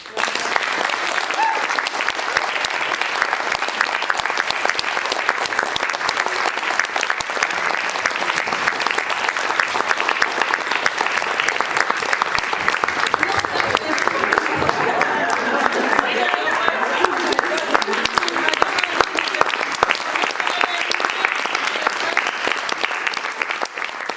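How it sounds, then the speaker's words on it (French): An audience applauds after a theatre reading in Strasbourg, a dense, steady wash of clapping from many hands that holds strong and even for more than twenty seconds. "On va l'applaudir."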